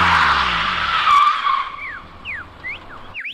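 A red toy race car's sound effect: a loud engine roar with screeching tyre skids that fades out, followed by a few short rising chirps, with nobody talking.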